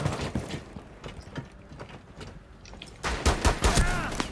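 Gunfire bursts out in a French multiplayer video game match: sharp cracking shots cluster near the end over busy mechanical game noise, with brief shots earlier in the mix.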